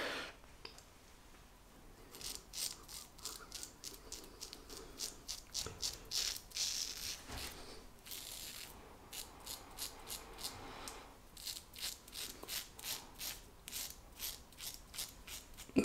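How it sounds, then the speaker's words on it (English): A Rockwell Model T double-edge safety razor shaves the chin over lathered shaving soap, giving close, repeated short raspy scraping strokes in quick runs with brief pauses between passes. "shave the chin."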